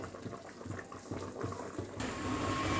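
Fish curry bubbling in a pot as poppy seed paste is stirred in, giving soft, irregular plopping and a low steady boil that grows slightly fuller toward the end.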